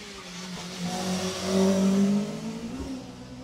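Rally car speeding through a stage of the 2018 Jersey Rally, engine note rising as it approaches and passes close by, revving hard with brief tire noise before fading slightly.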